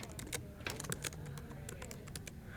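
Typing on a computer keyboard while entering a web search, a quick run of light clicky keystrokes, close and faint, in an irregular patter with brief gaps between bursts.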